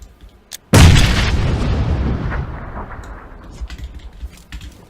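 A grenade blast in the battle royale game PUBG: Battlegrounds, one sudden loud boom that rumbles and decays over a few seconds, with faint keyboard clicks before and after.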